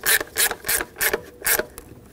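Ratcheting 10 mm wrench snugging intake manifold mounting nuts on a 3.6L Dodge Grand Caravan, a rhythmic series of about six sharp raspy clicking strokes, close and evenly paced.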